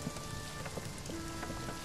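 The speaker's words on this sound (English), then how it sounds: "It's raining." Rain in the video game Spiritfarer patters as a faint, steady wash of drops, soft and continuous with a few scattered louder taps.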